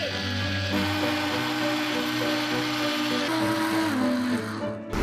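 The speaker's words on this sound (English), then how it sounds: "Now we're turning on the blender." A kitchen blender whirs loudly and steadily while mixing apple, spinach, ice cubes and coconut water into juice, its motor pitch shifting slightly before it winds down and stops at the end.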